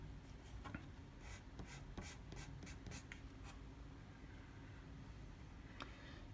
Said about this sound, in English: I'm going to erase that little t-shirt there